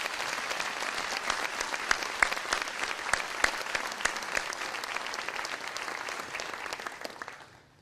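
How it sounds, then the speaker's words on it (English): An academic awards audience applauds its winners, a full sustained round of clapping from a large room that holds steady for several seconds before tapering off. "Let's give all of the award winners another round of applause."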